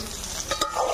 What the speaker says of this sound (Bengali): শুধু লবণ দিয়ে পটলটা আমি ভালো করে একদম লাল করে ভেজে নিতে হবে